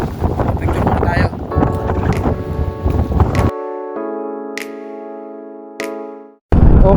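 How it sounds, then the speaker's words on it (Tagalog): Strong wind buffets the microphone at a coastal viewpoint near Bangui in northern Luzon, a loud rumbling roar for several seconds that gives way to a steady tonal hum before the gusts return. "Medyo may kalakasan ng hangin."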